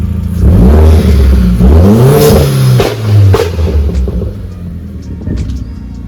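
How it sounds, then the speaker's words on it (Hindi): A Stage 2 tuned Skoda Octavia VRS revs hard from idle, its engine note climbing and falling through several loud sweeping blips, then settling back to a lower idle toward the end. "अभी चलो रेव मार के देखते हैं"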